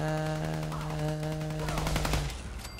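Rapid automatic rifle fire in Fallout 4, a loud dense burst of repeated shots over a steady tonal game background, cutting off near the end.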